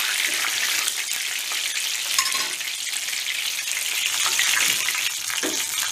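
Çiğ börek pastries fry in hot oil with a steady, dense crackling sizzle throughout, close and fairly loud with no talking.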